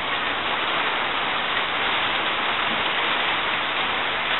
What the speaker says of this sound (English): It's raining and it's sunny.